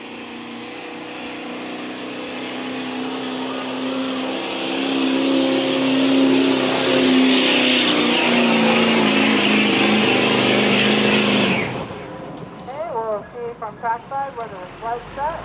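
A Chevy Silverado diesel truck in the Workstock Diesel class at a street-legal truck pull on a county fairground roars under heavy load, rising in pitch and loudness for about ten seconds, then cuts off abruptly as an announcer speaks over the crowd.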